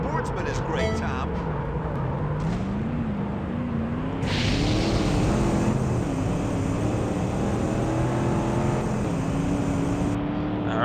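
Classic Ford and Chevy muscle cars race in a video game, engines droning steadily with shifting pitch, sweeping past under continuous commentary from someone talking throughout.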